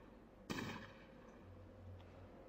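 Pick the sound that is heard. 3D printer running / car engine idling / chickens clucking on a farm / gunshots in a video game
gunshots in a video game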